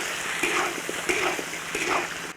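Oxtail pieces tip into hot oil and caramelized sugar bubbling in an iron wok, setting off a steady, close broadband sizzle and splash that holds for a couple of seconds.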